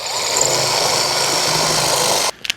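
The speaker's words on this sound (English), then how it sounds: "just drill a hole in this one bit here to try and put that to leave it in place" A power drill bores a hole into a wooden post for an outdoor kitchen frame, giving a loud, steady, high-pitched whine for about two seconds before cutting out, followed by a few faint knocks.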